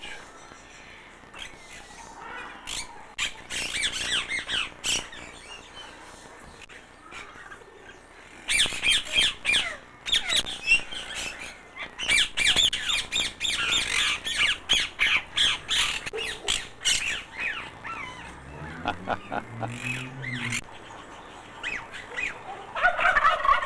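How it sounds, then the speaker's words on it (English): Turkeys squawk and gobble in a noisy, busy stretch, with a big white turkey displaying, loud bursts of fowl calls and a descending warble near the end. "Turkeys."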